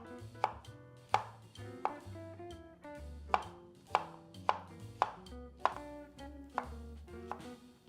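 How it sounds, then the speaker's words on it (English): Knife chopping peeled, pitted peaches on a cutting board for jam, about a dozen distinct knocks at a loose, uneven rhythm, close and crisp, with no talking. "you want to remove the pits and then coarsely chop."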